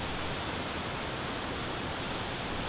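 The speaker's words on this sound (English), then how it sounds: "Golovatsky Buk is a 16-meter high waterfall situated in the heart of Upper Lakes." Golovatsky Buk, a 16-meter waterfall in Plitvice's Upper Lakes, falling into Gradinsko Lake: a steady, dense rushing roar of water without pause, close and even, with no voices.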